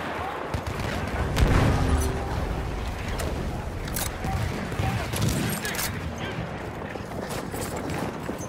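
Machine gun fire in a video game battle, dense crackling bursts and scattered shots over a constant rumble of combat noise, with shouted voices mixed in.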